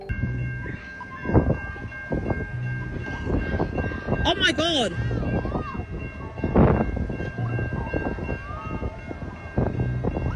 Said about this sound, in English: something happened to these women's car that made the train crash into them